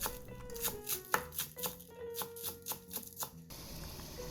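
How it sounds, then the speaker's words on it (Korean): A knife chops green onions steadily on a cutting board, about a dozen quick, evenly spaced taps close by, stopping abruptly near the end. "계란찜과 함께 먹으면 너무 맛이 좋은 쪽파도 조금 썰어주세요."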